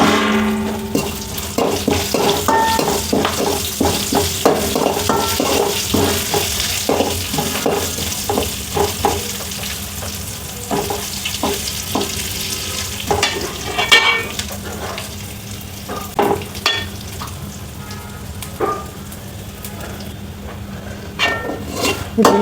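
Dried buttermilk chillies and curry leaves roast in a pan for North Karnataka churumuri, crackling and sizzling with repeated metal spoon scrapes and taps against the pan, loudest early and thinning toward the end.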